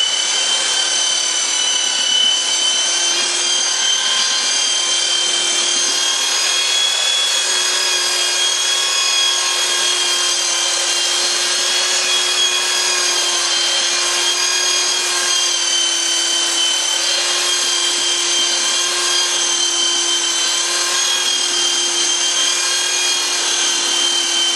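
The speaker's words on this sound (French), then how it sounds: "j'utilise toujours cette ponceuse à bande" A belt sander runs nonstop against a garden table being renovated, giving a loud, steady motor whine with a constant hum and only slight variations in pitch and grain.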